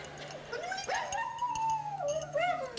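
A small dog on a television soap opera whimpers and howls in long, wavering high whines that rise and fall over several seconds, with a faint background hum and no talking.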